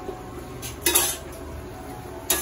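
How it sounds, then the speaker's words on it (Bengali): Metal utensil scrapes and clinks against a pan as spices are stir-fried on low heat, with two sharper clatters standing out over a quiet, steady background hiss; no one speaks. "মশলাটা একটু কষাচ্ছি করতে করতে।"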